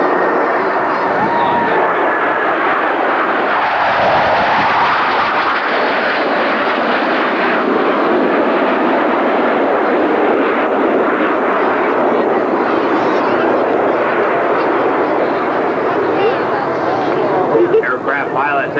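Two aircraft at the Schenectady air show fly in carrier landing configuration. A continuous, loud engine roar carries throughout while an announcer talks over it.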